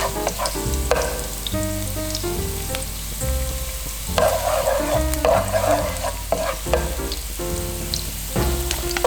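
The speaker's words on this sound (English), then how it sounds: "So in a pan, 2 tablespoons of oil, add our garlic, a little quick stir fry," Garlic stir-frying in two tablespoons of oil in a pan, giving a steady close sizzle with occasional scraping stirs, no talk.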